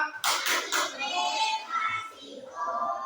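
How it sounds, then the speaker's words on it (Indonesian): A few sharp hand claps in a classroom ring out near the start, mixed with children's voices and followed by continued chatter. "Tepuk tangan Mbak Aisyah."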